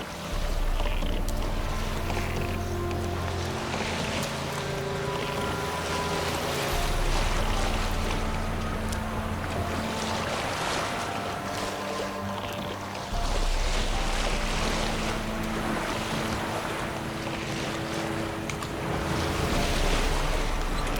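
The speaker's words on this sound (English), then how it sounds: "I'm really enjoying this boat riding." Boat gliding over wavy water in the Witcher 3 video game, a steady wash of waves and wind against the hull with a low drone and soft music underneath, continuous and fairly loud with no talking.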